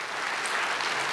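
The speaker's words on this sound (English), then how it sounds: "let's give her a round of applause." A church congregation applauds, a dense, steady wash of clapping filling the short moment without any voices.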